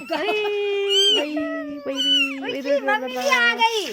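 A mother cat and her single newborn kitten, its eyes still closed, give repeated high mewing calls, close and fairly loud, with no talk over them.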